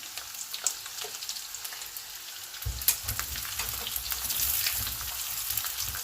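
Garlic, green chillies and chopped ginger fry in hot oil, giving a quiet, steady crackling sizzle with a few sharp pops, the frying growing louder partway through as more goes into the pan.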